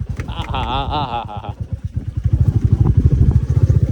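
A Royal Enfield Bullet motorcycle thumps along a rough, stony road with a steady low engine beat, bumps and rattles building louder toward the end, and a person talks over the opening stretch.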